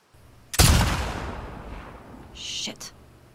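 A rifle fired at a sign in The Last of Us 2: one sharp, loud shot with a long decaying rumble, then a fainter clattering impact about two seconds later.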